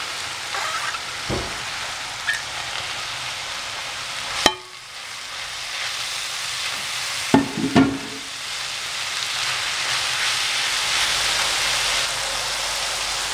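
Mushrooms and garlic-softened onion fry together in a pan for a seafood fideuá, giving a steady broadband sizzle throughout with a few sharp utensil scrapes and knocks near the middle, and no talking.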